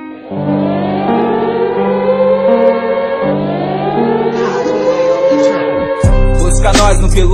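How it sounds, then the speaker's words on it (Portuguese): Stock moped (motorizada) pulling away from a standing start, its engine note climbing loudly and steadily through rising revs, dropping back as the next gear engages, then climbing again, with a louder low rumble near the end. "eu dando uma arrancada com a motorizadinha original"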